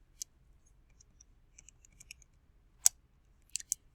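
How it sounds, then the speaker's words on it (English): Keys tapped on a calculator: a sparse run of light, sharp clicks at uneven intervals, with a few louder presses near the end, close and quiet against near silence. "just type that into my calculator really quick"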